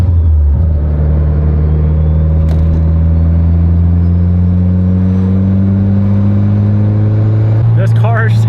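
A 550 whp Mitsubishi Evo X cruises with a loud, droning engine and exhaust note, holding a steady pitch that climbs gently, heard from inside the car alongside a brief talking voice near the end.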